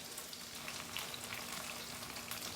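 Paneer cooking in a pan for honey garlic paneer, giving a soft, steady sizzle and crackle throughout with no talking, fairly quiet and close.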